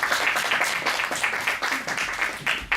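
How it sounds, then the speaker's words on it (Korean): Audience applause at a Korean talk event, steady dense clapping from a crowd at moderate distance, continuing without break for a few seconds. "여러분 박수 부탁드립니다."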